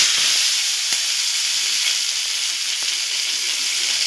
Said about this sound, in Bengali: আমি টমেটোগুলো এর মধ্যে দিয়ে দিলাম।